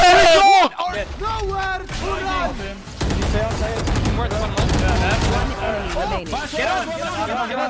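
Guardian rifle fire in Valorant cracks in loud bursts, sometimes in quick runs, under excited overlapping voices.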